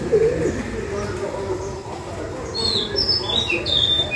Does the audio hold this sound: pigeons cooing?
yes